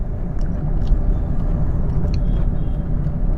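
A car rolling along in third gear at low speed, with a steady close engine rumble and road noise, no talk.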